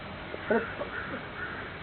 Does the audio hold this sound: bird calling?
yes